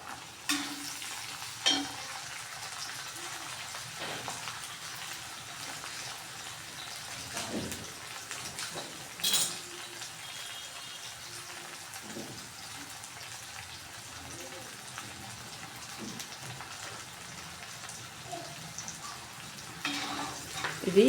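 Green onion stalk bases and green chillies frying in a pan for an onion-stalk chutney, a steady soft sizzle running throughout with a few brief clatters of stirring, fairly quiet.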